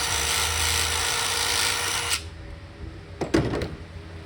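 Wire brush scrubbing the thermostat housing on a 2010 Dodge Challenger SRT8 with a 6.1 engine, heard as a steady, loud broadband scratching for about two seconds, then a few short, sharp scrapes.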